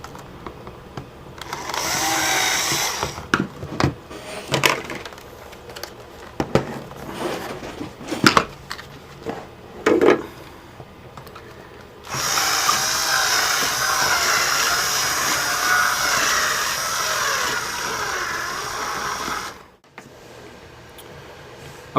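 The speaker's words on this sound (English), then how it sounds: "I'm going to drill into the hole here." A handheld power drill widening an existing hole, running in several short bursts early on and then one long continuous whir that cuts off abruptly near the end, with no talking.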